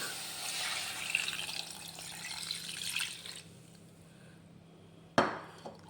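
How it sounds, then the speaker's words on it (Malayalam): Turmeric-mixed water poured into a mango pulissery curry, a steady splashing pour for about three seconds that fades out, then a sharp knock of a vessel near the end. "ഇതൊന്ന് മിക്സ് ചെയ്തിട്ടുള്ള ഈ വെള്ളം എനിക്ക് ഒഴിക്കാം കേട്ടോ."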